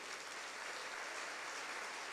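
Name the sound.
congregation applauding in church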